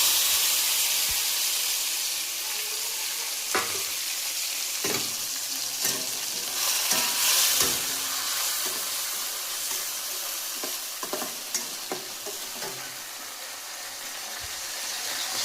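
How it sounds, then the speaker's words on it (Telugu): Cumin, mustard seeds, green chillies, tomato and onion sizzle in hot oil in a pan for a chicken curry, a steady close frying hiss broken by sharp crackles and pops of spluttering seeds, with no talk. "కాస్త జీలకర్ర, కాసిన ఆవాలు, అందులో పచ్చిమిర్చి, టమోటో, ఉల్లిగడ్డ వేసేద్దాం."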